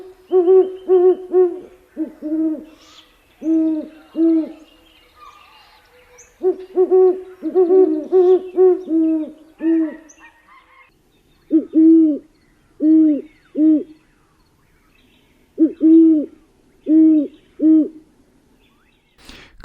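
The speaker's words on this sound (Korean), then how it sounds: "캘리포니아에서 들려오는 이 큰수리 부엉이의 또 소리도 듣기 좋거든요" A great horned owl hoots in California, deep resonant calls in rhythmic series of several hoots separated by pauses, clear and fairly close with no other sounds.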